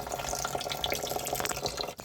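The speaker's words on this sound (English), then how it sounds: "let's wash our meat" Tap water running steadily into a sink while beef is washed for a cabbage stew, a close, continuous splashing flow with small bubbling variations and a brief dip near the end.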